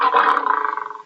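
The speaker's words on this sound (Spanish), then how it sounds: "Ese sonido que ustedes escuchan, van a entender que es un león." A recorded lion gives a single loud roar about a second long, starting rough and full and fading into pulsing grunts.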